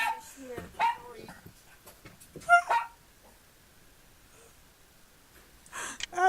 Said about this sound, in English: That's a cute sounding little doggy